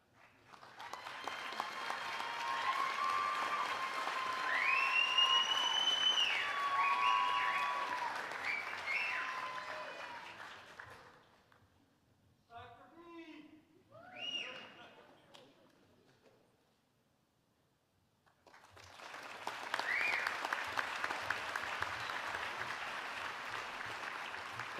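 Applause for PhD graduates at a 2023 biomedical engineering commencement: a full round of crowd clapping swells and fades, a speaking voice follows briefly, then another round of clapping rises.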